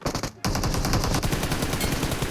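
Rapid automatic gunfire in the mobile battle royale game PUBG Mobile, loud and close, firing in a dense unbroken burst after a short gap.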